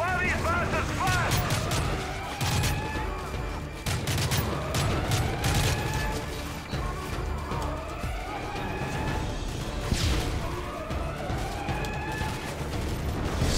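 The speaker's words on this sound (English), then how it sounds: "So many grenades" Grenade blasts and heavy gunfire in a Call of Duty: Modern Warfare 3 battle, repeated explosions and rapid shots going off amid a chaotic combat din, with voices shouting underneath.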